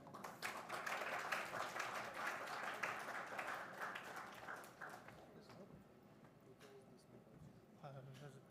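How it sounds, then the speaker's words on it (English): Audience applause at a hackathon showdown event, dense broadband clapping that stays loud for about five seconds and then thins out, with voices and some chatter mixed in near the end. "let's start with a great round of applause"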